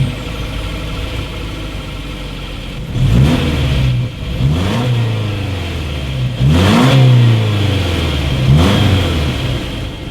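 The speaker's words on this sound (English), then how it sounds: "so here is that exhaust clip" A 2018 Subaru Forester's 2.5-liter engine idles with a throaty exhaust rumble, then revs sharply several times, each rev rising and falling back to idle.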